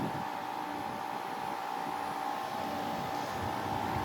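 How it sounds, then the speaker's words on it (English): A steady electric motor whir from a 2023 Nissan Ariya Engage while driving runs continuously with a constant tonal hum, mixed with broadband wind-like noise throughout. "So there's the electric motor whirring there,"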